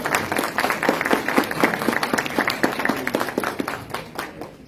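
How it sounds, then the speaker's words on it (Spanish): An audience at the first annual public-speaking contest of a superior court of justice claps for the jury, with distinct, fairly close hand claps in an uneven rhythm that thin out toward the end, and no voices over them. "queremos agradecer a nuestro honorable jurado, para quien les pido un voto de aplauso"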